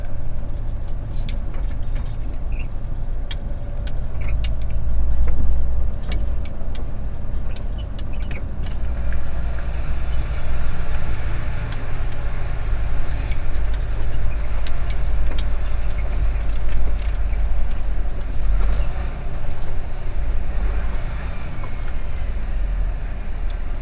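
A semi truck pulls out of a parking lot in Metairie, Louisiana, heard from inside the cab as a continuous deep engine rumble with road noise and faint clicks and rattles.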